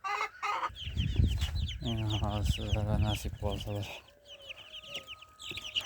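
Brahma chickens clucking and calling close by in a poultry pen, steady overlapping hen chatter with a brief spoken line near the start and young chicks peeping faintly underneath.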